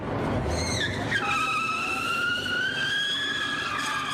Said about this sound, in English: A driver doing burnouts at one of Melbourne's major intersections.